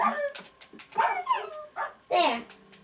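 Dog in the Minecraft video game whimpering and yipping, several short rising and falling whines in bursts, close and moderately loud, with no speech.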